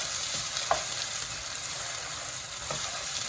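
Onions with salt sizzle steadily in a hot pan while being stirred for a chicken samosa filling, a constant close frying hiss broken by a couple of soft spoon scrapes.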